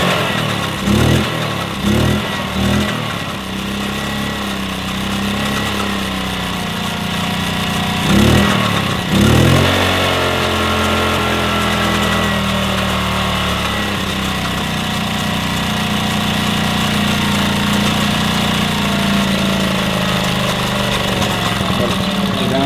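A 1966 Honda P50 moped engine sputters through a few cranking attempts, catches near the ten-second mark and settles into a steady low idle, with voices talking at the start.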